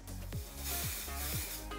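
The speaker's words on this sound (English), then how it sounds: "spray it in there just like that" Redken Pillow Proof dry shampoo hisses from an aerosol can into hair in a steady, close spray lasting nearly two seconds, with faint rubbing.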